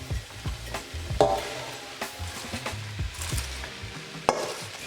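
Cabbage dropped onto sausage and pork frying in a pan, with a steady sizzle broken by a few sharp clattering thumps and stirring scrapes, close and fairly loud.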